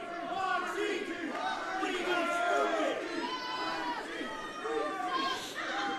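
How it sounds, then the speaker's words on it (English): A wrestling crowd at a live indoor show shouts and chants in a dense, loud roar of many voices, with rising cheers and excited yelling sustained throughout. "And the crowd behind Voxy right now"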